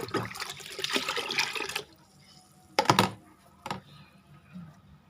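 Water is poured out to water plants: a steady splashing stream runs for under two seconds, then a couple of shorter splashes follow, all close and fairly loud.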